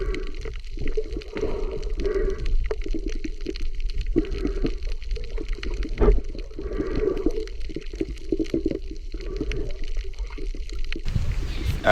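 Sea water at Shangri-La Mactan in Cebu sloshes and gurgles in a steady, close wash, with small splashes and rushing surges continuing throughout.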